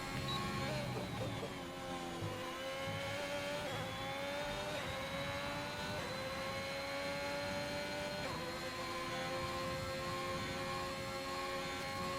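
Racing car engine from a sim racing game on an onboard hot lap at Austria, a steady high-revving whine with rising and falling pitch through gear changes, loud and continuous with no talk.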